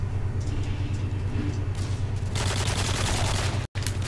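Gunfire in a Modern Warfare 2 killcam replay: a steady low engine-like rumble under bursts of shots, thickening into a dense loud fusillade near the end, with a brief dropout just before it finishes.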